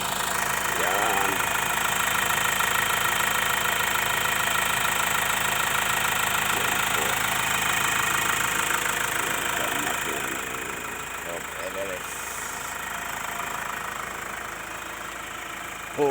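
A Ford Everest 2.0L 4x4 turbo diesel engine running in a steady close drone with a faint turbo whine, as someone talks over it.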